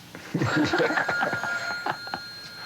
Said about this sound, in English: Hold on, phone again.